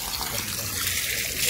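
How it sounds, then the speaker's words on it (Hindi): Mountain water runs and trickles steadily close by, a constant splashing flow with a voice talking over it. "ये आ रहा है पानी सीधा पहाड़ों से रिश्ते हुए"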